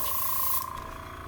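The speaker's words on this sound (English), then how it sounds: "it came out of a rattle can, so it's already really thin to spray" Thin black paint hissing from a rattle can during a lowrider paint job on a 1996 Cadillac Fleetwood, one steady close spray burst that cuts off partway through.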